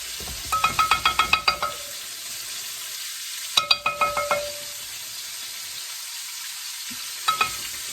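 A spoon stirring gumbo in a metal pot, quick clusters of scraping, clinking strokes in three separate bursts with quiet pauses between, close and clear.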